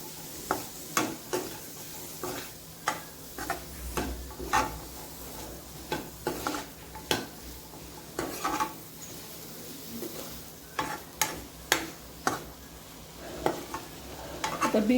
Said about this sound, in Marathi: लाल तिखट टाकते 1 चमचा, आता आपण हे मिक्स करून घेणार आहोत